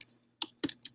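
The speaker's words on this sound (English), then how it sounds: "I'm going to type in" A few quiet, distinct keystrokes on a computer keyboard, three short clicks in under a second with silence between, close and alone.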